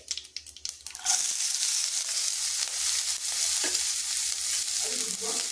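Chopped garlic and green chili hit hot oil with five-spice seeds in a pan, a steady loud sizzle starting after a second of light stirring clatter, with occasional spatula scrapes.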